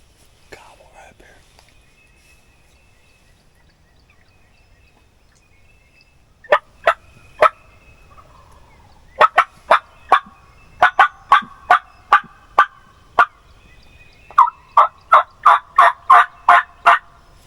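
A wild turkey gobbles in the Missouri Ozarks woods, with several distinct gobbles at moderate distance, first spaced apart and then in a quicker run, against quiet surroundings.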